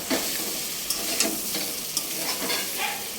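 Stir-frying in oil with salt, turmeric, ginger paste, cumin paste and chilli paste, a close, continuous sizzle broken by brief spatula scrapes.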